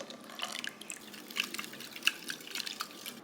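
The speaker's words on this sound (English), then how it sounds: "now I'm just going to add the heavy cream on top because that'll make 1 cup. And I'm just going to pour it straight into the egg mixture." Milk and heavy cream pouring into an egg mixture, a soft trickling liquid sound with small drips and splashes, faint and close, with no talking.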